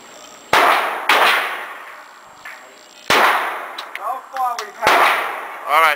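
Glock 17 9mm pistol shots ring out at a shooting range, four sharp, loud cracks spaced unevenly, each with a bright ringing decay, plus faint clattering between them.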